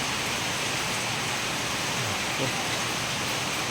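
Steady heavy rain falls outside on the first day of May, a dense, unbroken hiss that stays loud and even throughout with no clear pauses.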